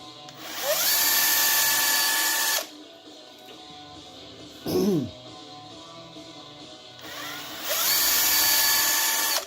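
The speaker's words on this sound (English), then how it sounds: "go all the way around the tire, drilling these holes" A power drill bores holes into a fatbike tire to fit studs. Two loud whining drill runs rise in pitch and then hold steady, with a short burst between them and quieter pauses in the gaps.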